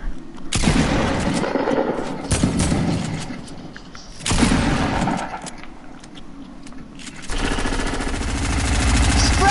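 Shotgun blasts in a video game playground match, with a few loud broadband booms at irregular intervals over steady game noise, then a dense rumbling stretch near the end.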